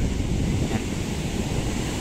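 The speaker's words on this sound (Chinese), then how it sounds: "这样子看着这个海浪哦，这样卷上来哦" Sea waves wash steadily onto a long beach in Vietnam at dusk, a continuous broadband rush of surf mixed with wind buffeting the microphone, with no talking.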